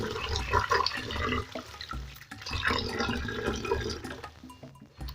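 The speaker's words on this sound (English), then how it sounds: "I'm going to wash it till the water runs clear" Rice is washed under running water, with a continuous splashing, gurgling rush close at hand and grains swirling in the stream, ending in a few drips as the flow eases.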